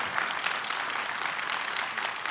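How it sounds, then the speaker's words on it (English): A graduation audience applauds steadily in a dense patter of many hands clapping, moderately loud and continuous for a couple of seconds, with no voices over it. "Let's give the students a big round of applause today."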